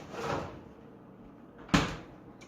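A refrigerator vegetable drawer in a kitchen, with a soft slide and then a sharp bump as it shuts, close and alone.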